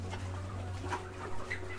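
Chickens on a poultry farm cluck softly in short, scattered bursts over a low steady hum, fairly quiet, with no talking.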